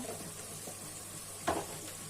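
Ground turmeric, chilli and cumin stirred and fried in a pan for a fish curry: a faint low sizzle under a steady hum, with one short scrape of a spoon midway, no talking.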